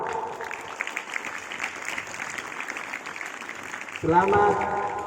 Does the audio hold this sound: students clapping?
yes